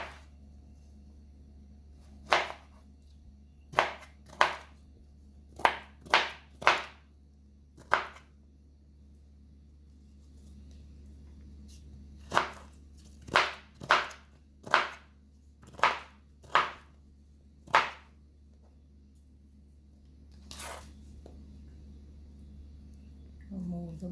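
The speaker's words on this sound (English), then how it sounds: "So I'm gonna go ahead now and just cut these up" Guava and June plum being cut up by hand for juice, a series of sharp knife chops onto a board in quick bursts of two to four strikes, close and distinct over a low steady hum, with a pause midway before the chopping resumes.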